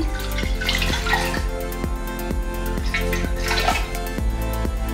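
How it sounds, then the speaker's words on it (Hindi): Water poured into a pressure cooker sitting on a stove while goat trotters are cooked, a steady splashing trickle heard close up with no talking. "सबसे पहले मैं थोड़ा सा कुकर में पानी डालूंगी"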